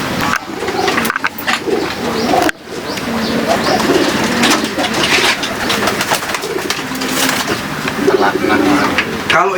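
Racing pigeons cooing in a loft, with repeated soft coos, chirps and occasional wing flutters close by, mixed with people talking throughout.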